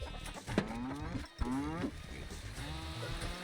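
A cartoonish cow in the game Moving Out 2 lets out several short, close moos in quick succession over a busy game backdrop.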